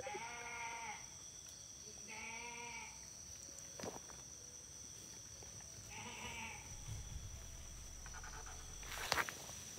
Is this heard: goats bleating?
yes